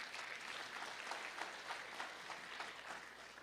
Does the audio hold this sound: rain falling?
no